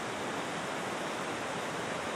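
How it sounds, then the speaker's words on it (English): A flooded creek spills across a road, making a steady, broadband rush of flowing water that holds close and even throughout with no pauses. "Basically what we got here is the creek"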